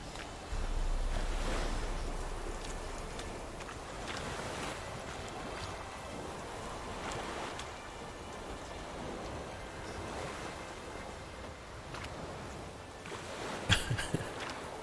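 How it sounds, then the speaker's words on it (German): Boat crossing open water in The Witcher 3, with a steady wash of waves and wind rushing past throughout and a brief sharper splash near the end. "Wir fahren mit dem Boot."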